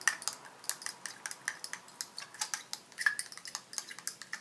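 Brown umber paint for screen printing on stained glass is stirred briskly with a utensil against a container, a close, quick series of light clinking taps in an irregular rhythm.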